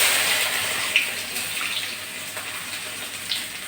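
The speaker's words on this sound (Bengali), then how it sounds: "এবার রসুন কুচিগুলো দিয়ে দিচ্ছি।" Chopped garlic hits hot oil already seasoned with black cumin seeds, giving a loud, broad sizzling hiss that slowly settles, with a few crackles and pops.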